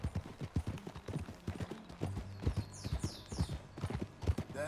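Steady clip-clop of horse hooves at a riding pace in Red Dead Redemption 2, with jingling tack, a brief whinny-like squeal, and background game music.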